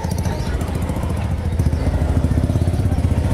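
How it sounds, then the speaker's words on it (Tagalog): Motorcycle engine running steadily close by in a busy outdoor marketplace in La Huerta, Parañaque, a continuous low rumble with a slight swell midway. "sumusulpot dito ang mga motor."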